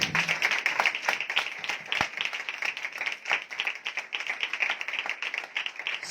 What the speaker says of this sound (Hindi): आए अपने यीशु के लिए जोरदार ताली।